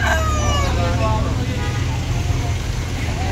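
A rooster crows briefly at the start where chickens are kept tied near a littered Manila plaza, its call fading into steady traffic rumble and street noise.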